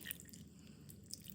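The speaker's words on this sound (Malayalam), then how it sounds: "എന്നിട്ട് ഒരു തുള്ളി വെള്ളം കൂടെ ഞാൻ ഒഴിക്കും" A small splash of water is poured into a mixer jar of soaked urad dal while making uzhunnu vada batter, giving faint, brief dripping and trickling with no talking.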